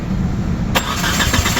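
A car fitted with Holley Sniper EFI fuel injection cranks over without catching, a steady churning starter drone that runs close and loud throughout with no engine firing.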